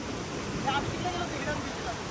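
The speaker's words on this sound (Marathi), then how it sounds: "असा हा बेभान वारा भेसाळणारं पाणी लाटा" Sea waves wash against the shore while strong wind roars steadily, a dense, continuous rush of surf and gusts with faint higher tones drifting through, heard near at a fishing spot on the coast.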